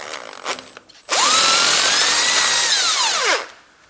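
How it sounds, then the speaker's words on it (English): A handheld electric driver whirs up and runs steadily for about two seconds before winding down, loosening a bolt on the starter motor of a Ford Duratec HE engine; close and loud, with faint clicks before it starts. "I open that bolt in this way, and I use my electric driver"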